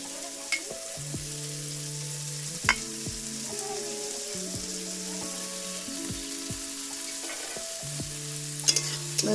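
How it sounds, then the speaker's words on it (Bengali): Chopped tomato and spices fry in a pan for pasta, a constant soft sizzle with occasional stirring knocks, heard under louder background music. "একটু ভালো করে নেড়ে চেড়ে নেব"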